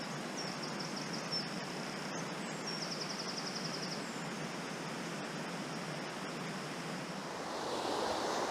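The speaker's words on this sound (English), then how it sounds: "I've made it down to the river. It's a lovely spot" A river flows in a steady, broad rushing wash on Dartmoor, continuous and fairly close, with a faint high bird twitter above it and no voices.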